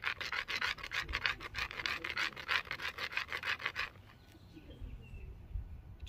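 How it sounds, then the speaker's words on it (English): A big rock is rubbed against another rock to sharpen it, giving a fast, rhythmic gritty scraping up close that stops partway through, leaving quiet outdoor background. "now we're just going to rub rocks to rock so we can get a sharp rock"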